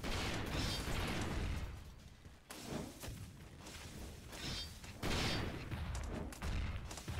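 Gunfire blasts and bursty shooting at enemies in Clone Drone in the Danger Zone, loud noisy volleys in uneven clusters with brief lulls between, whooshing and popping layered in.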